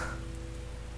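Steady rain patters on a surface, a dense, continuous hiss with no voices.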